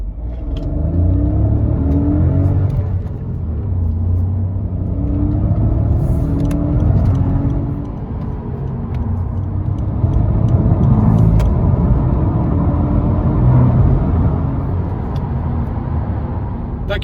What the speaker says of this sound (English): Let's see how it accelerates going onto the motorway from 0 up to 120 kilometers an hour.